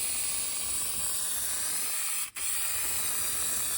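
Aerosol spray paint can laying a heavy wet coat on a Ford Focus RS car part, one continuous loud hiss with a single brief break in the middle.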